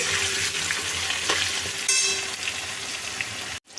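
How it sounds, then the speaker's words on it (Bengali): Large-cut, salted potatoes fry in oil in a covered pan, sizzling continuously and loudly with a few utensil knocks and a brief clatter near the end. "আলুগুলো ভেজে নিচ্ছি আলুগুলো একটু ঢাকা দিয়ে দিয়ে ভাজতে হবে"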